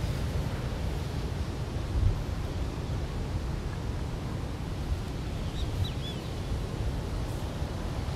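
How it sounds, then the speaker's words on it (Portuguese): A set of ocean waves rolling in on a beach, a soft continuous wash of surf with faint wind and a few distant bird chirps, steady and fairly quiet. "Mas tem as ondas ali, tem mais uma outra série entrando aqui"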